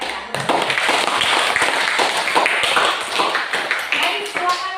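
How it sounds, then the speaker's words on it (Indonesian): Classroom students clapping for a presenting group, a dense patter of many hands close by, with some voices mixed in throughout. "Sekarang kita beri tepuk tangan untuk mereka."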